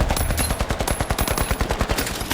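Rapid automatic gunfire from the shooter game The Finals rattles out in a fast, steady burst of close, loud shots with no gaps.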